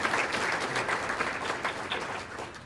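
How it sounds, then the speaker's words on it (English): Sustained applause from an audience at a 2022 scholar awards ceremony honoring cadets, a dense, steady wash of many clapping hands close by, with no talking. "If we can give her a round of applause for that."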